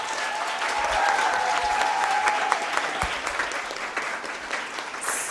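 A crowd applauds award winners at the finals of a university competition, steady, sustained clapping from a fairly close audience filling the whole stretch, with no speech.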